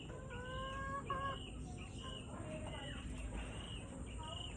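F1 yellow-legged hatch gamefowl cluck and call in a backyard breeding pen, with repeated short squawks and chirps over a steady outdoor hum, while insects drone faintly in the background.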